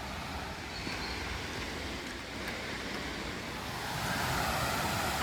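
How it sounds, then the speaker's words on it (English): Steady broadband rush of a waterfall on the Camino Portugués between Pontevedra and Caldas de Reis, heard from nearby as a continuous hiss that swells slightly louder toward the end. "there is supposed to be a beautiful waterfall. I can certainly hear water"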